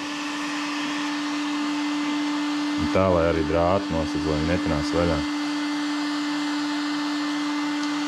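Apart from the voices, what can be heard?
heat gun shrinking a filter wrap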